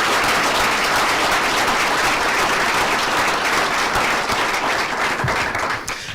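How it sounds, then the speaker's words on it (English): A crowd at an awards event for leader-of-the-year finalists applauds loudly and continuously for about six seconds, a thick even wash of clapping that tapers off at the end. "Let's give them one more round of applause."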